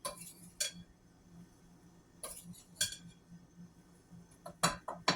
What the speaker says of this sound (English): So I'm doing it by hand with my spoon.